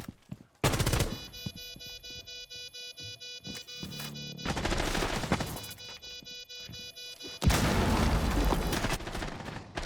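Bursts of rapid automatic gunfire from a tactical shooter video game, several loud sustained volleys separated by short pauses, with sharp single shots and clanks between them.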